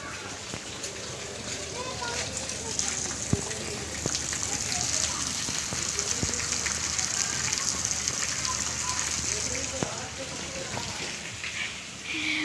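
Steady rain patters outdoors with scattered drips and splashes, while a person talks over the continuous wash of falling water.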